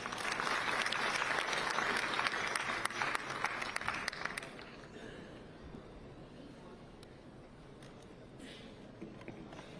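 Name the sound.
audience applauding for the health minister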